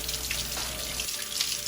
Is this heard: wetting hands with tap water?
yes